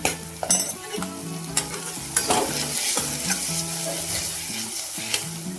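Onion and garlic fry in a hot pan while a spoon stirs them, producing a continuous close sizzle broken by repeated scraping strokes and occasional clacks against the metal.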